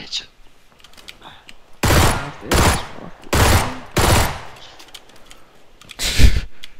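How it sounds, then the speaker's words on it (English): Gunfire in PUBG on the Miramar map, with four loud automatic bursts in quick succession followed by a final burst, and faint voices and game sounds between them. "That was my last burst of ammo."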